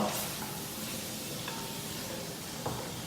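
Onions and garlic are sautéed for beef kare-kare, a low, even frying hiss with a couple of faint utensil taps, quiet and close with no speech over it.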